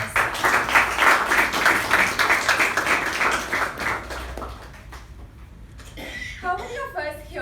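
An audience at a Toastmasters meeting gives a round of applause to welcome a speaker. The clapping is dense and fairly loud for about five seconds, then thins and dies away before a voice begins talking.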